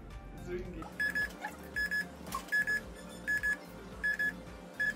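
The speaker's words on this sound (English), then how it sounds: "It's ringing." A phone ringing out during an outgoing call, sounding as repeated paired electronic ring tones at a regular rhythm with some background noise underneath.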